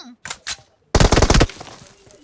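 Automatic rifle fire in PUBG Mobile: two short shots, then a loud rapid burst of about eight rounds close up, trailing off into a brief echo.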